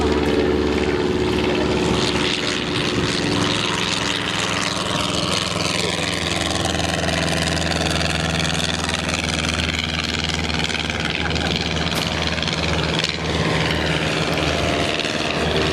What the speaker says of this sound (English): There goes the Sopwith triplane.